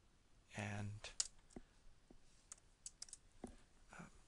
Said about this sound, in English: change description by clicking and typing.